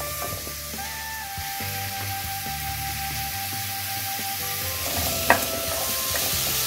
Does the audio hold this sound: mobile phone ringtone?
no